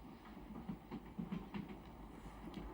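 A Russian passenger train rolls along the rails, carrying Lenin toward Petrograd: a low, steady rumble with rhythmic clickety-clack wheel beats, fairly quiet and without voices.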